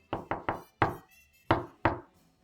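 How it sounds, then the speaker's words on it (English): Knocking on a wooden door: three quick sharp raps, a single knock after a short pause, then two more. The knocks are close and clear, with no voices. "again someone was at Amu's door"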